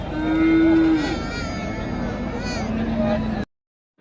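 Cattle mooing at a traditional village cattle market, one long low moo up close, then another further off, over a steady hubbub of crowd chatter and market noise.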